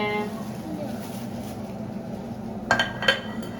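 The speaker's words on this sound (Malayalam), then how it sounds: "എൻ്റെ ചില്ല് പാത്രം പൊട്ടിക്കരുതേ" Two sharp clinks of glass dishes knock together near the end, over a steady low kitchen hum.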